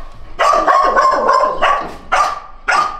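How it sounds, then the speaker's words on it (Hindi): A dog close by lets out a series of loud, sharp barks in about four bursts: a long run first, then shorter separate yaps, with no talk. "भौंकता रहेगा, ये ब्लॉग नहीं बनाने देगा।"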